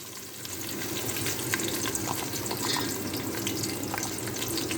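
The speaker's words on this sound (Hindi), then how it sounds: "प्याज डाल दी है, प्याज को हम फ्राई करेंगे।" Onions sizzling in hot oil for beef biryani, a steady crackling fry with small bright pops, fairly close and even throughout with no talking.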